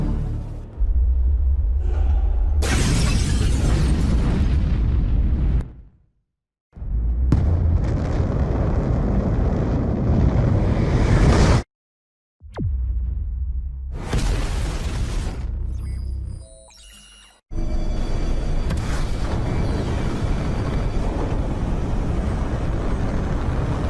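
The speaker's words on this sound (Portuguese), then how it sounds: "E essa bomba sempre estoura no final da partida dos mapas da Nuketown." A bomb detonates at the end of a match on the Nuketown map in Black Ops 4, heard as loud, sustained booming rumbles in several long bursts broken by short silences.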